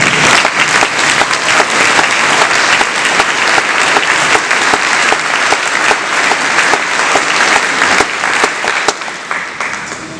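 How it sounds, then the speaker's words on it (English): An audience gives a loud, sustained round of applause at the Koroton 70th anniversary concert performance. The dense clapping fills the whole stretch and eases off slightly near the end. "I think he deserves a huge round of applause."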